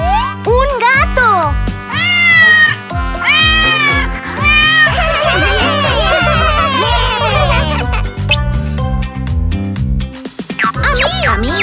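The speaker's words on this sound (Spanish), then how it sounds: "¡Un gato!" A cartoon cat meows repeatedly in bright, bending cries over a bouncy, plucked musical backing, playful and loud throughout.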